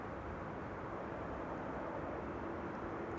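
An Air France airplane at Amsterdam Schiphol Airport, heard as a steady, faint broadband engine roar at a distance, with no talk.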